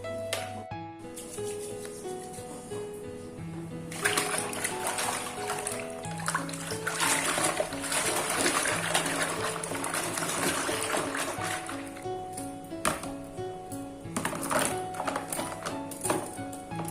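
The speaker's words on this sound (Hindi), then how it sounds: "टब में पानी डाल के ना थोड़ा सा इसमें डिटर्जेंट घोल लूंगी" Water pours steadily into a tub for mixing detergent, a continuous splashing rush that thickens in the middle and eases toward the end, with faint bumps around it.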